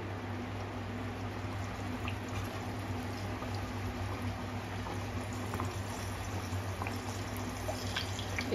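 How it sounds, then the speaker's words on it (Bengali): Puri dropped into hot salted oil for Bengali egg puri, giving a steady, close bubbling sizzle that runs evenly throughout with no talking. "এখন একটা পুরি দিয়ে দেব তেলের মধ্যে।"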